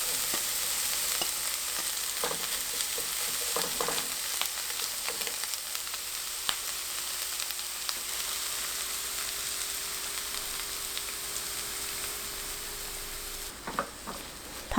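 Green onion and egg frying over very low heat in a pan with a spoonful of cooking oil, a constant gentle sizzle with a few faint scrapes and taps scattered through.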